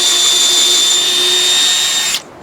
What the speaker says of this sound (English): what you want to do is you want to drill a hole,